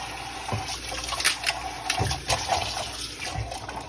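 Water from a kitchen tap splashes over produce being rinsed after a vinegar-water soak, a continuous gushing stream with irregular louder splashes throughout, close and alone.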